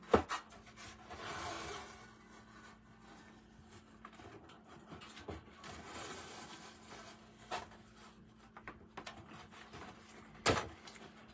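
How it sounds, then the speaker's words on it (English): A notch is cut into metal for a stamped lamp, quiet rasping and grinding strokes in bursts with scattered knocks and a sharp clank near the end, faint and close. "I'm going to cut a notch in the metal"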